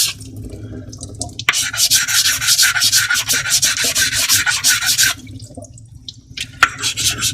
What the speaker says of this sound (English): worked on the 140, take the 400. You can hear it smoother, right?